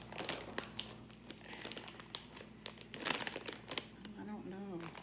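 A plastic shopping bag crinkles and rustles up close in quick irregular bursts after being cut down, sharp crackles scattered throughout while a person speaks briefly near the end.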